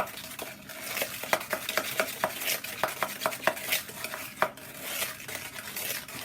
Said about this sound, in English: let's just mix that up in so you can see, you want to have that really sort of mixed in quite well